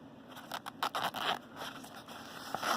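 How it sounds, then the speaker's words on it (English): Zippers on a small EDC pouch are pulled in a series of quick, close strokes with light handling scrapes. "The zippers do zip pretty well."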